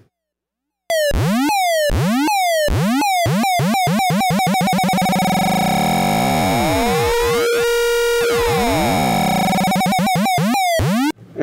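A Dewanatron Novitiate oscillator set to a square wave, producing loud, buzzy, harmonic-rich tones swept in repeated downward chirps that quicken into a dense, pulsing electronic texture, with a brief steady drone partway through.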